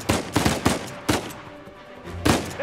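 Bursts of gunfire from the video game Uncharted 4 ring out in several loud, punchy volleys, with short gaps between them and no talking.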